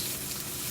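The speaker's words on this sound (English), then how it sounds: "we're gonna let that sear and sizzle" Raw lamb searing in a hot pan, a steady, close hiss of sizzling fat with no pauses.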